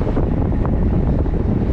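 Wind blowing across an exposed road during a long-distance ultra-cycling race buffets the microphone as a constant loud rushing roar, heard alone for a brief moment.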